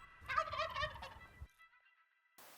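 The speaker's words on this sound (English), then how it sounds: "Got a gobbler. He's probably 250, 300 yards away." A wild Gould's turkey gobbler gobbles once in a canyon, a rapid rolling burst heard from a distance, clear against otherwise quiet open air.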